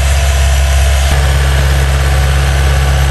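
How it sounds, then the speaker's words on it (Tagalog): A motorized plowing machine for a rice paddy runs its engine loud and near, with a steady, heavy, vibrating chug and one small knock partway through. "Ngayon po high-tech ng ginagamit na pang-araro ng palayan. Hindi na po kalabaw, makina na."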